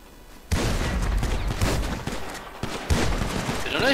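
Rapid gunfire from an online match of Grand Theft Auto V rattles in dense, overlapping bursts that hold fairly loud and close for most of the stretch, with a brief voice near the end.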